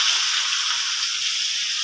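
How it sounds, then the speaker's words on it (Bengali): Carrot and other vegetables sizzle steadily in hot oil, an even bright hiss that continues without a break and stays close and fairly loud, with no voices over it. "রুটিগুলো বেলে নেওয়ার আগে প্রথমে সবজিগুলো আমি ভাজতে দিয়ে দেবো।"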